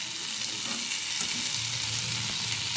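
Tomatoes, salt and peas sautéing in a pan for a Bengali-style bata fish curry, giving a steady close sizzle with soft stirring scrapes throughout, no talking.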